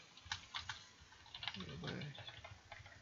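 Quick, light keystrokes on a computer keyboard as a button name is typed, a close run of soft clicks under a low background hum, with a soft voice murmuring briefly.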